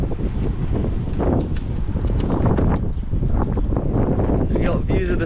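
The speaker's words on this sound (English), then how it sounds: "It's windy today as well." Wind buffets a rooftop in Byblos, producing a continuous low, rumbling roar against the microphone that holds steady throughout.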